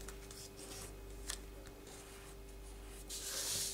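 A square of paper is folded and creased along its diagonal for an origami box and lid, with quiet rustling and rubbing and a louder swish of paper at the end.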